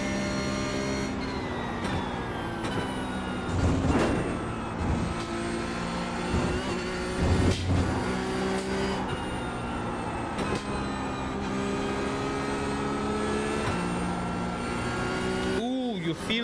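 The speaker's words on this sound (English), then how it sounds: "you feel that understeer rumble" A Toyota GR86 at Okayama circuit, a steady engine drone with a low rumble while cornering in understeer, and a voice speaking over it.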